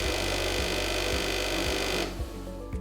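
Pump of a Multiwash PRO floor cleaner running with a steady mechanical whir and a regular rhythmic thumping pulse, loud and close, then the whir cuts off near the end, leaving the low pulses and a quieter tail.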